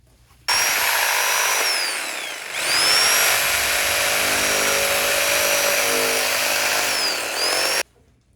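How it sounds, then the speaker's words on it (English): A power jigsaw cuts circles out of wood, its loud, close motor whine and buzzing blade running continuously for several seconds with one brief slowdown before stopping. "we can cut out our circles. And we'll just use the jigsaw to do that"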